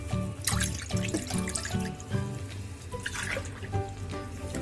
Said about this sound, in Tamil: அதுக்கு ஒரு வாணலியில் 5 டம்ளர் தண்ணி சேர்த்துக்க போகிறோம்.